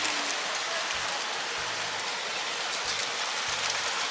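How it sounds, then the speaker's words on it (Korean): Heavy rain pours down steadily in Plovdiv, Bulgaria, a dense, loud, close hiss of drops on surfaces with a few faint low knocks beneath and no talking. "비 완전 많이 와. 대박 많이 와."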